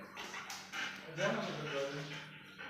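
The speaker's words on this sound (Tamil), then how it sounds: "ஸோ பின்னாடி பார்த்தீங்கன்னா அவர் வளர்க்குற நாய் இருக்குது." German Shepherd dog kept at a home in Cherambadi in the Nilgiris, heard close with short yips and whimpering barks mixed in with people talking.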